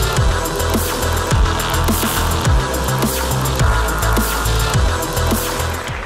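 A Dualtron Spider electric scooter in turbo dual mode climbs a steep hill, its motor whining loudly and steadily with repeating rising tones and road rumble, close up with no talking.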